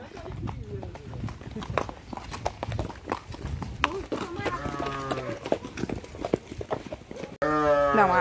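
Several horses, including a mare, move about outdoors during bathing, with irregular hoof clops and scuffs under frequent nearby talk; a horse's whinny rises clearly near the end.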